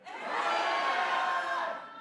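A seminar audience at a network-marketing business event shouts loudly together on cue, a dense burst of crowd voices that swells and holds for about two seconds before fading.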